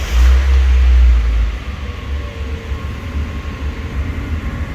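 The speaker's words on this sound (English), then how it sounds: "So here we go, cold start." A Mazda NB Miata engine running on Megasquirt engine management during a cold start, a loud low rumble at first that settles into a steady, pulsing idle in a garage.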